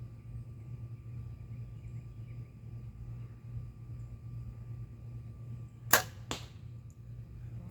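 A bow releases an arrow down a backyard practice range during hunting practice: two sharp, close snaps about half a second apart rise over a steady low hum and faint background noise.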